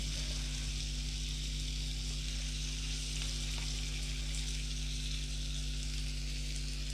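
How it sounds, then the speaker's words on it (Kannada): Slices of paneer, garlic paneer made restaurant style, fry in butter in a pan with a loud, continuous crackling sizzle over a steady low hum, close and unbroken throughout. "ಒಂದೊಂದೇ ಸ್ಲೈಸ್ ಹಾಕಿ ಕಾಯಿಸ್ಕೊಂಬಿಡೋಣ ಇದನ್ನು"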